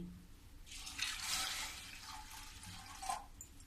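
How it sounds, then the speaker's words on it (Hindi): Water pours in a soft, close splash for a couple of seconds into a pressure cooker holding dal, fairly quiet, with no voices. "अब इसी में मैं थोड़ा सा पानी डाल देती हूँ।"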